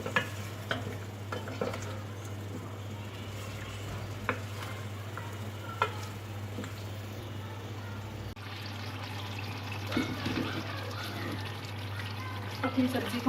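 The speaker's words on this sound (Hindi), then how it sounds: "वक्फे वक्फे से चम्मच चलाते रहना है इसमें ताकि नीचे से जल ना जाए" Pumpkin halwa stirred with a spoon in a pot over low heat, with faint soft scrapes and clinks scattered through a quiet hum, a few sharper spoon knocks standing out near the end.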